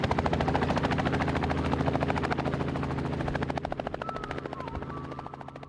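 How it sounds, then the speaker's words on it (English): A helicopter flies steadily near a mountain at dusk, its rotor chop a loud, continuous rapid thumping with engine drone throughout, and a faint whistle-like tone rising briefly in the later part. "Slowly the chopper claws its way back to stability and heads to the base of the mountain."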